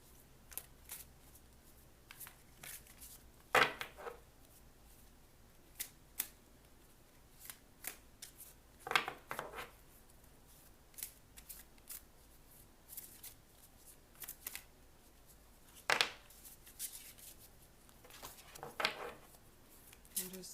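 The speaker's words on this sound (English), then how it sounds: "I'm going to shuffle these cards." A deck of tarot cards being shuffled by hand, with soft repeated riffles and four sharper bursts of card flutter spread through a quiet room, each standing out clearly above the low background.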